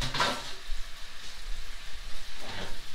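Salmon or trout fillet frying in a pan, a steady close sizzle with soft crackles and brief louder spits, no voices.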